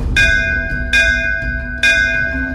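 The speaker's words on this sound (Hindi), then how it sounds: "चलो घंटी बजा के देखते हैं।" A bell hung on a house is rung three times in a row, each clear metallic strike ringing out and decaying before the next, loud and close with no voices.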